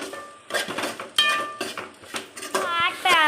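Onions being stirred in a cooking pan, with a series of close metallic clinks and scrapes of the utensil against the pan at an uneven rhythm, mixed with someone talking.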